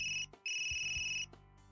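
Phone ringing with an incoming call in a visual novel game, two bursts of a bright electronic ringtone separated by a short gap, clean and alone.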